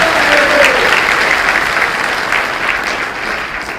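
Audience clapping at a Hindu religious discourse, a dense, steady wash of many hands that stays loud throughout and eases slightly toward the end. A faint voice is audible at the start.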